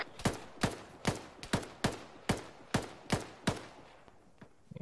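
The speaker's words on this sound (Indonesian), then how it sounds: "Alah, tembak kita kat dinding." Gunfire in ARMA 3, about eight loud, sharp shots spaced roughly half a second apart in a steady rhythm, each cracking then fading quickly, with a few fainter reports near the end.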